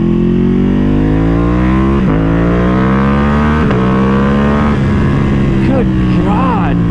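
A custom Ducati Panigale V2 motorcycle downshifts and revs hard, its loud, close engine note rising and falling in steady ascending sweeps with sharp blips between gear changes, ending in quick throttle stabs.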